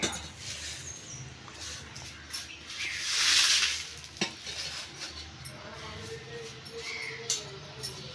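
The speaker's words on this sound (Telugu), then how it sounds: "ఇప్పుడు దీంట్లో కరివేపాకు ఎల్లుల్లిపాయలు వేసుకుందారు ఇంకా ఎలా నలిగిపోతుందో అలా వేపుకోవాలన్నమాట" Curry leaves and garlic fry in a pan, crackling and sizzling steadily under stirring scrapes, with a louder hiss swelling midway as the leaves hit the hot oil.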